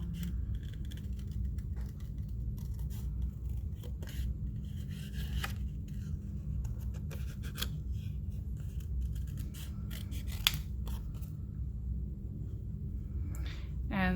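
Scissors fussy-cut around a stamped paper image for a handmade card, giving faint, scattered snips and paper rustles over a low steady background hum.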